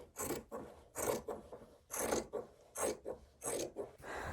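Rough edge on a pair of jeans at the knee being polished smooth by hand, giving repeated rasping rubbing strokes in a steady back-and-forth rhythm, close and fairly quiet, with no talking.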